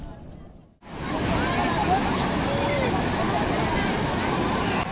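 Sea waves wash steadily onto the shore at Bakkhali beach, a loud, continuous surf roar that rises abruptly after a brief quiet moment at the start and then holds.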